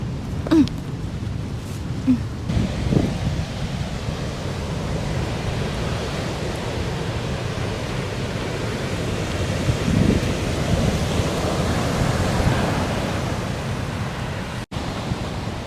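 Strong ocean waves surge and crash along the rocky shore at Red Rocks, New Zealand, a steady loud roar of surf with wind buffeting the microphone throughout, swelling slightly near the end.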